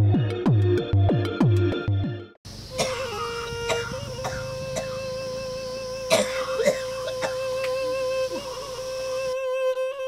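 A woman coughs in a rapid burst of several harsh, close coughs at the start of an indoor drama scene, then a steady tone and faint background sounds follow with no clear speech.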